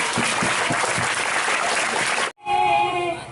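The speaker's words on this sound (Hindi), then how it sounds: "कृपया तालियों से स्वागत किया जाएगा" An audience at an Independence Day event at a maths coaching class applauds to welcome an elderly guest, steady dense clapping for about two seconds, then a brief break before tonal, music-like sound.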